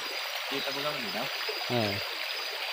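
River water rushes in a steady, broadband wash along a riverbank, loud and continuous, while a person speaks briefly over it.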